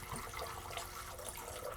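Refrigerated cold water pours steadily into a container for a chocolate strawberry drink, a faint continuous splashing stream with no talk.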